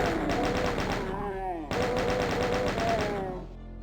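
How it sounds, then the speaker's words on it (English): In the video game Doom 64, a chain gun fires at imps in rapid, evenly spaced bursts of loud gunfire, briefly broken once and then resuming, with growling creature cries mixed through the shots. "I suggest you get the chain gun out for this section."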